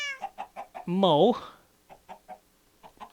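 Chickens cluck in Minecraft 1.6.2 on a resource pack test map, giving a steady run of short, close clucks with one longer, louder call near the start.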